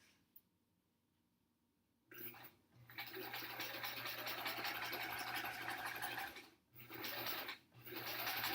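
Quiet at first, then a sewing machine stitches improv quilt back pieces in a steady whirring run. The run breaks off briefly twice and restarts, heard close and fairly soft.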